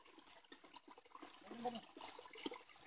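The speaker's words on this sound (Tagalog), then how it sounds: "At dito po yung tubig." Water flowing in a remote mountain forest near a fallen tree, a faint, steady trickle and gurgle with some brief splashy moments, heard from close by in quiet surroundings.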